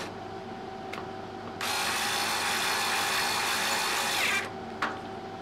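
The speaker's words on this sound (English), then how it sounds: "we need to reinstall the 8 screws for holding the optical tube assembly" Power tool driving screws into the optical tube of an Astro-Tech 12-inch RC telescope, a brief click, then a steady whirring burst of about three seconds ending in another click.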